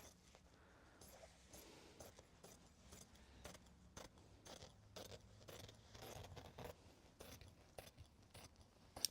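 Scissors trim strips of Japanese fabric ironed onto interfacing: faint, quiet snips and rustling of cloth in short irregular bursts, close by.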